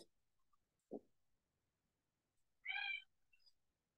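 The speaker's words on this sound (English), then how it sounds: "My cat says hi too." A pet cat meows once, a short harmonic call standing alone in a quiet room, preceded by a brief low thump and followed by faint faraway chirps.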